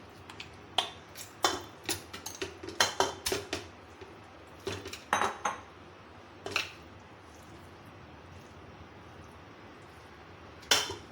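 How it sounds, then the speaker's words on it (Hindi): Mutton chunks clatter and thud into a metal pressure cooker, a quick cluster of knocks and scrapes, then a pause before a few more clanks. "यहाँ पे जी मैंने प्रेशर कुकर ले लिए हैं और सबसे पहले इसमें मटन डाल देंगे"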